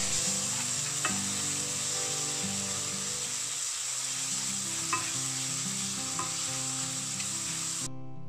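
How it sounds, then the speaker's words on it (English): Diced tomatoes sizzling in a pan of onion masala for Kerala-style egg curry, a bright steady frying hiss with occasional light stirring clicks over quiet background music. "Now, it's time for the diced tomatoes to go in."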